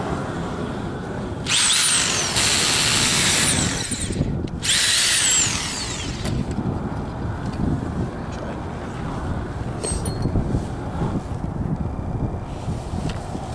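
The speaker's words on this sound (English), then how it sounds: "We're going to be using a quarter inch diameter drill bit." A power drill with a quarter-inch bit whirs loudly in two bursts near the start, then quiets into a steady low grinding rumble with a rough, windy edge.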